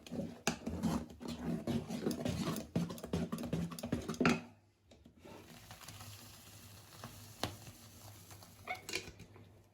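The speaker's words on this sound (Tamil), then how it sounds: "கை விடாமல் இப்படி கரண்டி போட்டு கரண்டியில் இப்படி நல்லா இப்படி கரைச்சி எடுத்துக்கணும்" A ladle works through thick urad dal idli batter with salt, stirring steadily by hand, giving a run of soft, wet patters and scrapes that stop partway and resume more quietly.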